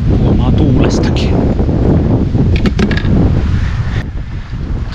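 Strong wind gusting over open sea aboard a small fishing boat in a strait, loud buffeting on the microphone with splashing water beneath, continuous and close.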